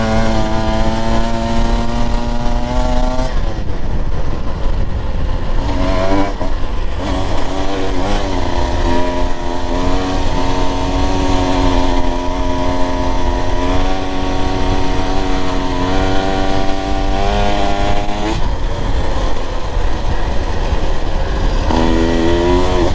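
A Husqvarna TE 150 TBI two-stroke dirt bike engine climbs a hill at about quarter throttle, revving and shifting through low gears with rising and falling pitch, loud and continuous throughout.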